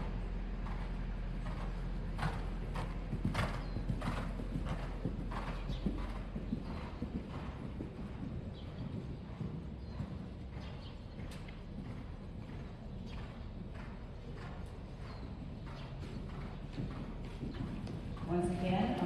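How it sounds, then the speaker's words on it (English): Horse hooves beat out a steady clip-clop canter across an arena during a dressage test, with rhythmic footfalls close and continuous under a spoken voice calling out the movements. "On the long side, opposite the judges, lengthen the stride and canter."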